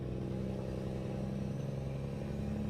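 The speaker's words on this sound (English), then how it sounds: "You hear a truck, but I can't see it." A truck in the American Truck Simulator video game rolls along the highway with a steady, even engine drone that holds at a constant level throughout, with no voices.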